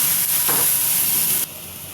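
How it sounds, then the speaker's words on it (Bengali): A little water splashes into a spice paste frying for a taro-stolon curry, giving a sharp hissing sizzle that drops off abruptly after about a second and a half. "মশলাটা ভাজা হয়ে গেছে, এখন দিয়ে দেব অল্প কিছু পানি।"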